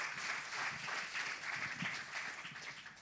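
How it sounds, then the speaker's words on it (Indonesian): A church congregation at a worship service claps in a steady, moderately dense round of applause, heard from some distance at low level without any speech. "Boleh berikan tepuk tangan untuk kemuliaan Tuhan."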